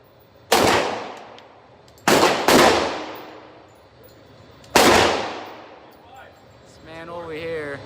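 Four loud, sharp handgun shots ring out at an outdoor shooting range, two close together, each with a long echoing tail, followed by someone speaking.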